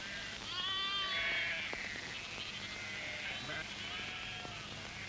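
A flock of sheep bleats repeatedly, several wavering calls overlapping at middle distance over a faint outdoor hush, with a person talking.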